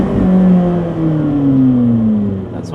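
A noisy Honda car accelerates on the road, its engine drone rising steadily in pitch, loud and close from inside the cabin before easing off at the end.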